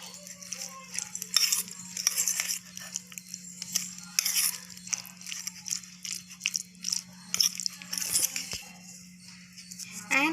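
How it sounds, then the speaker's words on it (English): Banana stem being mixed into curd with a spoon, giving soft, irregular wet squelches and scrapes at close range over a low steady hum. "Mix the banana stem well with the curd."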